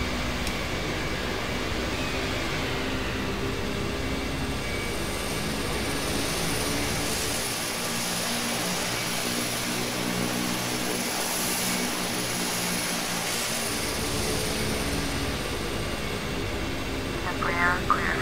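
Turboprop engines of an Embraer EMB-120 drone in a flight simulator game, a steady, unbroken airy hum with propeller tone that lasts throughout.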